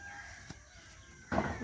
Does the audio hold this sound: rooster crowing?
yes